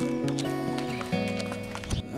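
Horse hooves clip-clop during a ride out on a hack, heard under prominent music throughout.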